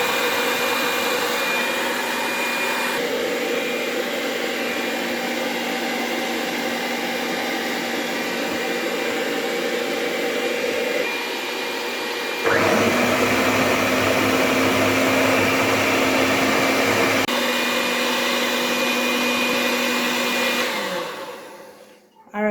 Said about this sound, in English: I'm going to just blend the fruits now. Add it to the blender and blend it.